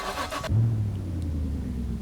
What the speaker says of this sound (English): First thing we're going to do is shut the engine off so that I can turn it on.